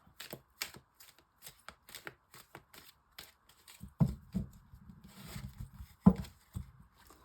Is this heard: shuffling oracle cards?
yes